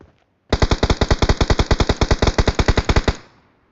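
Rapid burst of automatic gunfire, about two dozen evenly spaced loud shots fired in quick succession for roughly two and a half seconds, then cut off with a short fading tail; no talking.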